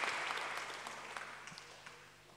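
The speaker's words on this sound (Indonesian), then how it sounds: "Boleh tepuk tangan." An audience claps together in a dense burst of applause that fades gradually over a couple of seconds, heard alone at moderate distance.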